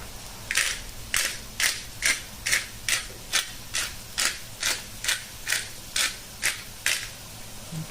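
A grinder twists a mix of black and white pepper over cod in a home kitchen, fourteen crisp, evenly spaced ratcheting crunches that are close and clear, with no talking.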